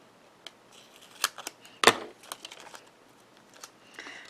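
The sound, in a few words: scissors cutting card stock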